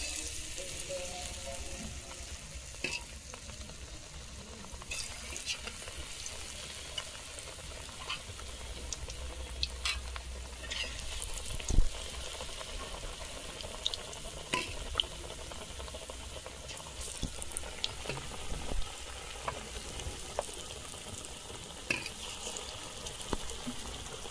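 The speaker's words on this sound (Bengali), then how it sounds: "একটা বেগুন নিয়ে এই যে বেসনের মধ্যে ডুবিয়ে তেলে ছেড়ে দেবো" Eggplant slices dipped in gram-flour batter fry in hot oil for Bengali beguni, a Kali Puja offering dish. A long, even bubbling sizzle continues close by, with occasional clinks and stirring sounds and no speech.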